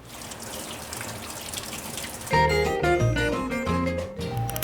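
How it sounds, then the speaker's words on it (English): Tap water runs steadily into a sink while hands are washed, the flow growing louder and fuller partway through, no voices. "I'm gonna wash my hands."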